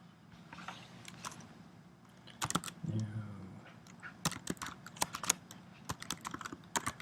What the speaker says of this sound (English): type in your password and begin